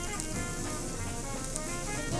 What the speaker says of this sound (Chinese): 這個我們再烤一塊